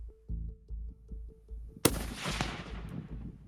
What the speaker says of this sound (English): Shoot him in the shoulder, Cari.